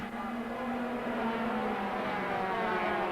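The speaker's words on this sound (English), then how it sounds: "Flashing past the start and finish line one more time." Racing motorcycles at the 1993 Japanese Grand Prix scream past the start-finish line, a loud sustained high engine whine holding steady pitch without pause.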